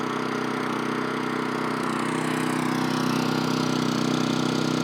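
A small pull-start engine with a muffler idles quietly and steadily at close range, a smooth even drone running unbroken through the whole stretch with no voices.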